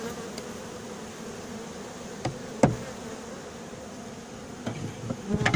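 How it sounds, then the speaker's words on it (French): Honey bees buzz around a horizontal hive, a steady low hum of many insects with a few close passes and soft knocks against the hive. "j'espère que les abeilles vont rentrer dans la ruche"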